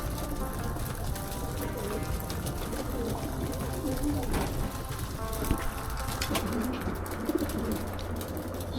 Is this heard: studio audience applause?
no